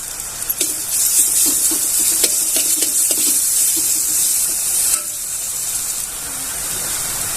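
Green chillies sizzle in hot ghee and oil for a tempering over a low flame: a steady, close, bright hiss with a few sharper pops and crackles early on, running without pause and with no talk.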